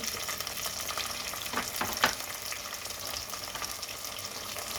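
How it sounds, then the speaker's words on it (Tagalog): Chicken pieces with peanuts fry in a pan, a steady broadband sizzle throughout with a few brief louder stirring or splash accents near the middle, close and moderately loud, no talking. "ilagay na natin guys ang ating chicken"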